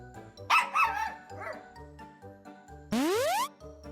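Cartoonish dog barks and yips from an adventure video game, two quick barks followed by a whimper, then a springy rising boing effect, all over a looping low game music bed.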